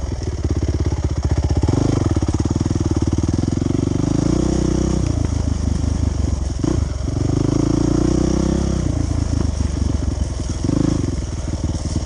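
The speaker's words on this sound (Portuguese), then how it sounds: "A moto vem de pra frente e vai pra trás." An enduro trail motorcycle at an amateur trail-riders' meet on a slippery, muddy trail revs loudly and up close, its engine note rising and falling repeatedly across several throttle bursts.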